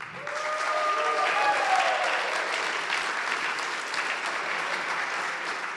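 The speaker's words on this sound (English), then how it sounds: "Let's have a clap for Re-Rate." Warm applause from an audience at a startup demo day pitch event, a continuous wash of clapping that holds steady throughout with a faint voice briefly under it at the start.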